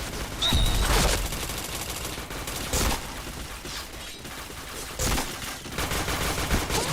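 Rapid bursts of gunfire from the online shooter Point Blank, loud and close, with several heavier volleys and sustained automatic fire across the stretch and no talk over it.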